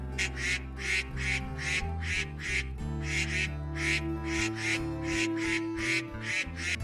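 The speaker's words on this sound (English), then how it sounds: "duck. This is duck." A duck quacks in a rapid, evenly spaced series of loud, close nasal calls, continuing steadily over a low background tone.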